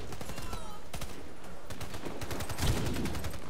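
Rapid automatic gunfire in the online shooter Warface rattles in steady bursts with a heavier burst near the end, over game ambience, while a player talks now and then.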